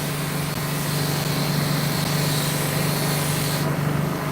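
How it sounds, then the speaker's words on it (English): A 50 CFM single-phase air compressor runs steadily with one pump, a loud continuous hum with a low-pitched drone and hiss that holds evenly throughout, with no talking. "That's the compressor running with one pump."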